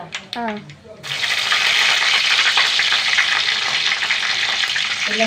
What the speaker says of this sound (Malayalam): കുറച്ച് കടുകിട്ട് കൊടുക്ക പൊട്ടട്ടെ പൊട്ടട്ടെ പൊട്ടട്ടെ